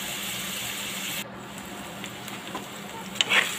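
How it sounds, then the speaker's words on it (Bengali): Onions stirred and lightly fried in a pan while cooking koi fish dopiaza: a quiet, steady sizzle with soft stirring scrapes, a brief louder scrape near the end. "আমি পেঁয়াজটাকে ভালো করে নাড়াচাড়া করে হালকা একটু ভেজে নিব"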